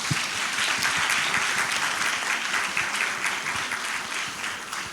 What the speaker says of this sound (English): One more time, please, a round of applause